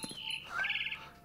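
A bird chirps in What Remains of Edith Finch, a brief, fairly faint call that rises and then holds, close by with no talk.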